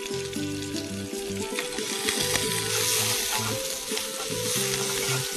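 Steady, crackling sizzle of ginger, chilli and garlic paste frying in hot oil, close and continuous, with occasional stirring scrapes and no talking.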